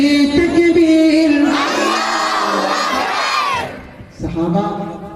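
A large crowd bellows the takbir slogan together in loud, sustained unison shouts, with a brief pause before voices surge again, close and energetic at a religious naat gathering.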